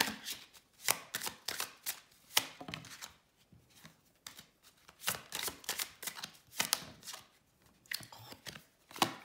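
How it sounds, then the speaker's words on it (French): A deck of tarot cards is shuffled and a card drawn, with a quiet, close run of brisk riffling bursts and soft card slaps in uneven clusters, no voices heard. "Je vais tirer une dernière carte."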